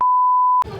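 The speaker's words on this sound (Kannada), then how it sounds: "ಬರೀ ಬೀಪ್ ಆಗತ್ಲೆ" A loud, steady single censor beep lasting a little over half a second cuts off sharply into muffled chatter and noise at a birthday party gathering.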